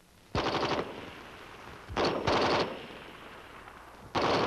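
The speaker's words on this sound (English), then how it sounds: "By turning the selector to full automatic, fire is continuous as long as the trigger is held back and there are rounds in the magazine." M14 rifle chambered for 7.62 millimeter ammunition firing on full automatic, three loud, sharp bursts of rapid shots, each under a second long, separated by short pauses with echo trailing off between them.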